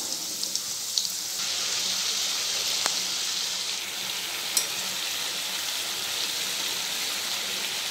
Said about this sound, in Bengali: মাংসটা দিয়ে কষিয়ে নিচ্ছি